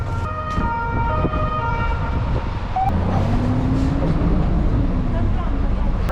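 An ambulance siren wails from a motorcycle ambulance on patrol, close and loud and mixed with road and traffic noise, while people talk over it.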